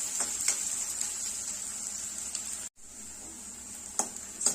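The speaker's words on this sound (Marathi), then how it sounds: "कांदा थोडासा ट्रान्सपरंट होईपर्यंत आपल्याला हा परतून घ्यायचा आहे" Chopped onion and ground garlic sautéing in a pan for a Solapur-style peanut vegetable curry, a steady sizzle broken by occasional soft stirring scrapes and one brief gap.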